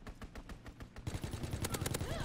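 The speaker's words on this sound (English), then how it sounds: "Fighter pilot inbound, strafing the target." Rapid gunfire from a fighter plane strafing in the Call of Duty WW2 video game: a steady run of quick shots that gets louder and denser halfway through, with a voice briefly audible.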